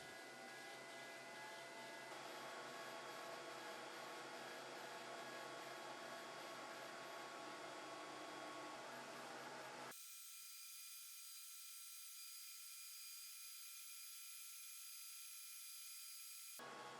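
xTool P3 laser engraving into a wooden miter box piece: a steady high whirring hiss of fans and motion, abruptly thinning midway to a filtered, bass-less whine, continuous and unaccompanied by voices.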